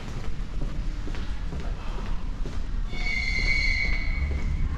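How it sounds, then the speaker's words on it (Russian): A train rolls past on rails in Latvia, between Riga and Salaspils, with a low rumble, then metal wheels squeal in high, sustained tones toward the end. "Поезда идут."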